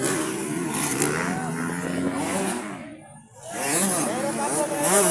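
A motocross motorcycle engine revs hard at a motocross competition, rising and falling in pitch, dropping briefly before surging again, amid crowd noise and an announcer's voice.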